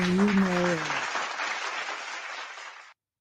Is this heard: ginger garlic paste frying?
no